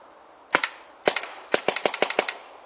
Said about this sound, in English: Okay, I'm glad I put that last shot out because there was still a round in there.